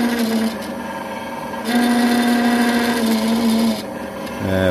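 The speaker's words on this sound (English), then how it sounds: "Let's drill this hole." Aging power drill boring a hole into an air rifle stock for a sling swivel stud, a steady whining motor hum that rises in pitch and loudness midway, then drops back, close up with no talking.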